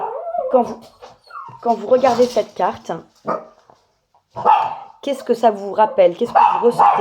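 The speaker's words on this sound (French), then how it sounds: "J'ai mon chien qui aboie, je suis désolée." A pet dog barks indoors in short, sporadic bursts mixed with someone speaking French, the barks close and partly overlapping her talk.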